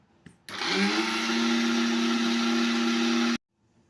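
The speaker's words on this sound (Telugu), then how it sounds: "ఇంగ్రీడియంట్స్ కలిపి మనం మిక్సీ పట్టుకోవాలి" A mixer grinder whirs loudly and steadily for about three seconds, grinding ajwain powder ingredients, starting and stopping abruptly with no talk over it.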